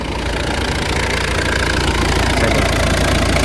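A Mahindra Bolero diesel engine idles steadily up close, a constant rough, knocking rumble with no pauses and no voices.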